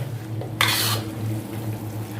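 Petai sambal being stirred in a pan on the stove, with a brief burst of scraping and sizzle in the middle over a steady low hum.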